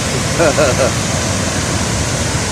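A tall waterfall roars with a steady, dense rush of falling water, loud and close, while a voice speaks briefly over it.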